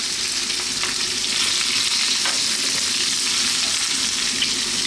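Chopped white onion and garlic fry in a pan and are stirred almost constantly, giving a loud, steady, close sizzle with faint scrapes layered over it and no talking.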